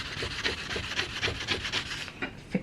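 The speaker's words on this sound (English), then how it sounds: "I have some 2000 grit sandpaper." Fine 2000-grit sandpaper rubs across an antique 1910s brass door plate in quick, even back-and-forth strokes, a soft, close scratching rhythm with no voices.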